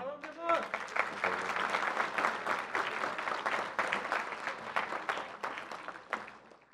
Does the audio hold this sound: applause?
yes